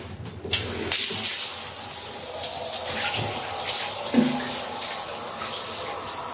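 Water runs steadily from a tap or shower while a dog is bathed, a continuous close splashing hiss that carries on throughout with a brief clatter near the start.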